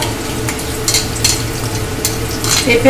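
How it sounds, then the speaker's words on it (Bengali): Sesame seeds, green chili and ginger-garlic paste frying in hot mustard oil, a steady close sizzle with scraping stir sounds and a few brighter spatters. "সরষের তেল কিন্তু আমার গরম হয়ে গেছে, আমি এতে ঢেলে দিচ্ছি এই তিল, কাঁচা লঙ্কা, আদা রসুনের পেস্টটা"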